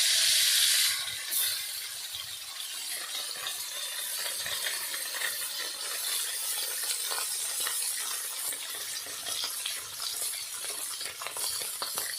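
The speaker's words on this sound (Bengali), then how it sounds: "এইভাবে আমি সব মাছগুলো ভেজে নিই" Bhola fish fry in hot oil in a pan, giving a loud, steady sizzling hiss that crackles on throughout, with a sharper burst of spitting at the start.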